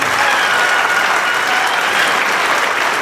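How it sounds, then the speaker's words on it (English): An audience applauds the Wenatchee Mariachi band at a 2012 high school graduation ceremony, a loud, dense and continuous roar of clapping from a large crowd, steady from start to finish with no talk over it. "Give them a round of applause."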